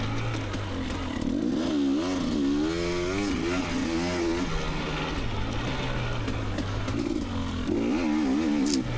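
A 2019 KTM 250xc two-stroke dirt bike rides the trails at Johns Peak OHV, its engine revving up and down in rapid waves and rattling close by, with no talking.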